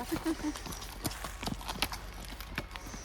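A horse towing a load clip-clops along with a steady run of hoof strikes, moderately close. People talk over the hooves throughout.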